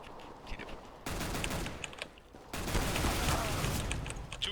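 Rapid bursts of automatic gunfire in Counter-Strike: Global Offensive, dense crackling volleys that swell louder partway through and keep going with little pause, heard as a game mix.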